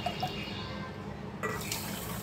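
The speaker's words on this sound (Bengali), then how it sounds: "এই বাটিতেই মেপে 2 বাটি জল দেব" Water from a tap runs steadily into a pan with sugar for a simple sugar syrup, a continuous close splashing flow with a brief change midway and no talk.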